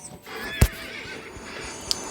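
A horse whinnies in a video game, one short sharp neigh ringing out clearly over a quiet background, followed later by a brief faint click.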